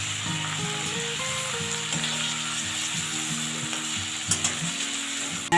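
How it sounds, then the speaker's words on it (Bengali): Prawns fry on low heat in a pan, giving a steady, close sizzle that runs throughout with no talking. "আমি চিংড়ি মাছটা কম আঁচে ভেজে নিচ্ছি।"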